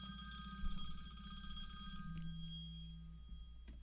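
A telephone rings several times in a room where a show is being recorded: a repeating electronic ring at moderate volume, with brief gaps between rings and a low room hum underneath.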